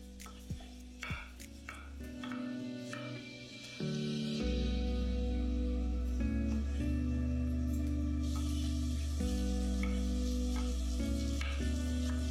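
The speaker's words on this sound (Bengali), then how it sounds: "এবার পেঁয়াজটাকে আপনারা গ্যাসের ফ্লেমটা মিডিয়াম করে ভালো করে ভাজতে থাকুন।" Onions fry in oil over a medium gas flame with a steady, close sizzle, while a metal utensil scrapes and clinks against the pan at intervals.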